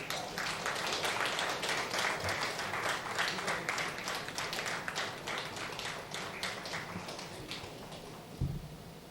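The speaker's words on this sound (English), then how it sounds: "Let's give him a huge round of applause." Audience at an award function for the Sir J.C. Bose Memorial Award claps for an award recipient, a continuous, rather faint and distant patter of many hands that thins slightly toward the end.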